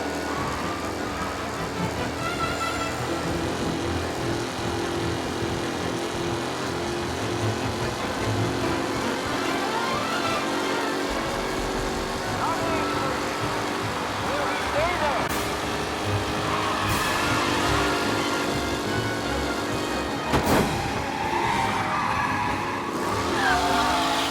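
Race cars in the Mafia video game skidding and squealing their tires over a continuous roar of engines, loud and sustained, with a commentator-style voice talking over it.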